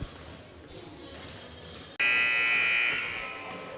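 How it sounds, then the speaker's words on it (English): A loud, sustained electronic halftime buzzer blares at a high school girls' basketball game in a gym, cutting in sharply over faint crowd murmur and holding for nearly two seconds before tapering. "I hope you guys heard the beep because I was waiting for it."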